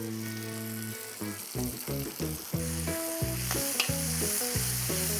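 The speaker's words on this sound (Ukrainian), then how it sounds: "І трошки просмажуємо." Sausages fry in a pan with garlic, hot pepper, salt and black pepper, a steady loud sizzle close by with stirring scrapes, while music with sustained tones plays over it.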